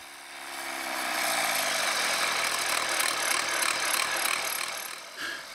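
A car engine runs steadily while tap water is fed in to decarbonise it, a continuous close mechanical drone with a faint ticking texture that dips briefly near the end.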